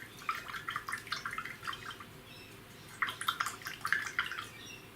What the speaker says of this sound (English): Okay, so that's how I'm cleaning my brush.